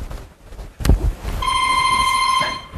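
A telephone ringing at a dinner party in a comedy sketch on stage, a bright electronic tone sounding once for about a second, loud and close, just after a thump.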